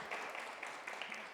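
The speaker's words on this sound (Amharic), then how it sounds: "አሪፍ ሞቅ ያለ ጭብጨባ እስቲ" Warm audience applause at a book launch event, a steady wash of many hands clapping at moderate distance, fairly soft and continuous for a moment with no voices over it.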